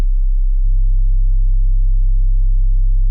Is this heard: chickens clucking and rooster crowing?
no